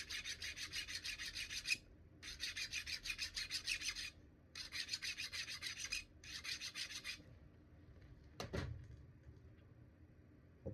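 Flintknapping pressure flaker sharpened by hand, four bursts of rhythmic rasping strokes like filing, close and fairly quiet, followed by a short pause and a single knock.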